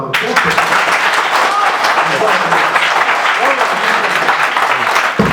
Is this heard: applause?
yes